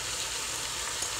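Salmon fillet sizzles in a hot frying pan, a brief dense crackle heard close up and without any voices.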